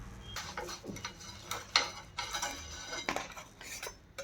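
Corn pizza being uncovered and lifted off a tava pan, light metallic clinks and scraping taps of utensils against the pan, scattered and close.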